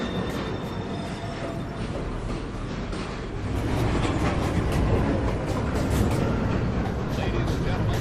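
An NYC subway shuttle train at Lincoln Center station rumbles and rattles on the tracks with broadband clatter that swells midway, a faint high whine early on, and an announcement voice over it.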